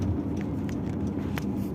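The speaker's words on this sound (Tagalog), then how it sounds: "Yan, dito kami sa traffic." Road traffic in Saudi Arabia rumbles steadily as a dense, low, continuous wash of car noise, with faint brief higher swishes of vehicles passing nearby.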